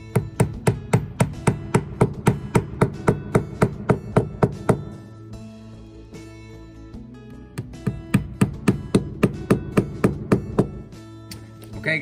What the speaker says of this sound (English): I will insert with the hammer